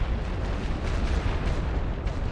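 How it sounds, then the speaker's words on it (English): Light guns fire artillery barrages in the World War I strategy game The Great War: Western Front, making a dense, continuous rumble of booms and explosions with no pauses and steady loudness throughout. "I'm just gonna fire some quick barrages from the light guns while I'm waiting for the heavy guns to reload"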